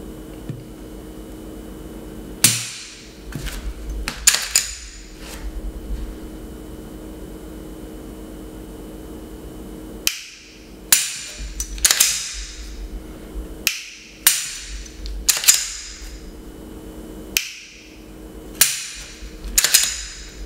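A Glock pistol fitted with a Gunfighter trigger is dry-fired on an empty chamber, giving a series of sharp, close mechanical clicks, single and in quick pairs, spaced irregularly over a quiet background.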